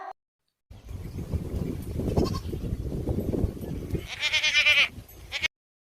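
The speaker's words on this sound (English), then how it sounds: "G for goat." A goat lets out a single loud, wavering bleat near the end, following several seconds of busy low-pitched sound.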